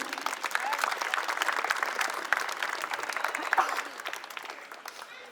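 Audience applause for a special prize winner at an interschool competition: steady dense clapping from a crowd, moderately loud and continuous throughout, with scattered sharper claps standing out.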